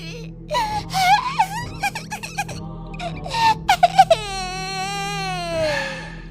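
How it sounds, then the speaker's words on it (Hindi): A small baby's wailing cry as a horror story sound effect, rising and falling in long moaning sobs with a few sharp breaths, loud and close with no talking over it. "एक छोटे से बच्चे की रोने की आवाज आने लगती है"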